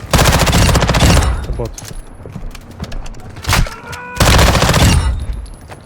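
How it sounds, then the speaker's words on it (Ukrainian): Machine gun fire in the video game Warzone DMZ: loud, rapid bursts of automatic shots, two long bursts bracketing scattered single shots, with a voice speaking briefly in between. "О, стрілява."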